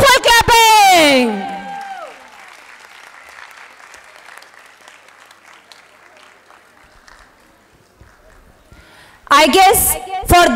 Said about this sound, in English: There should be wonderful clapping.